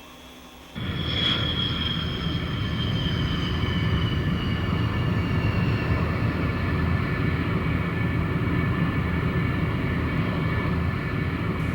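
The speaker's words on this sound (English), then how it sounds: "And now it's time to bring the Sabre back to Earth." An F-86 Sabre Cold War jet coming in to land, a loud sustained engine roar with a high whine that slowly falls in pitch, continuing steadily with no voices.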